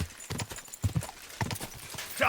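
A horse's hooves clip-clop at a steady trotting rhythm during a ride in the video game Kingdom Come: Deliverance II, close and moderately loud, with a faint whinny near the end.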